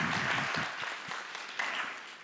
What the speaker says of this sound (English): Big round of applause for Mateusz, everybody.